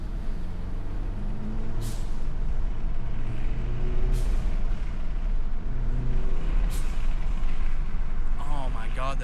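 An aftermarket turbo blow-off valve on a BMW G20 330i with upgraded intake and charge pipe vents in sharp hissing bursts over a running engine rumble, repeating roughly every two seconds, with a voice talking at the end.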